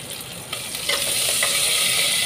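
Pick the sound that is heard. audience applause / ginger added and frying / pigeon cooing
ginger added and frying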